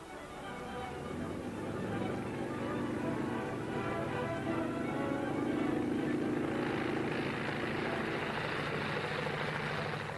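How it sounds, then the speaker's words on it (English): A pilotless propeller bomber's engine roars steadily at a distance as it takes off, its droning pitch rising as it builds power, a continuous mechanical hum throughout. "There goes the bomber, gentlemen, with no pilot to guide her"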